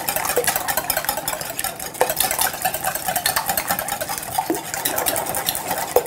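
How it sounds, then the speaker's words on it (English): Eggs are beaten with a whisk in a large mixing bowl, a continuous fast scraping and tapping of wire against the bowl, close and fairly loud, with occasional sharper clinks. "I beat my eggs with a whisk"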